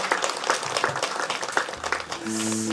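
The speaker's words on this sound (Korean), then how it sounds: "우리 귀한 말씀 전해주신 목사님께 우리 감사의 박수 한번 할까요?" Church congregation applauds the pastor after a Sunday sermon, a brief burst of fairly close clapping that fades as sustained organ or keyboard tones enter near the end.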